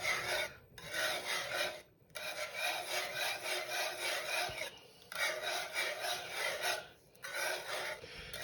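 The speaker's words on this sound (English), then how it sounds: "as we're whisking here, we're releasing all that flavor into our gravy." Whisk scraping around a cast iron pan of sausage gravy, a close, steady rhythmic rasping in repeated bursts with brief pauses between strokes, no talking.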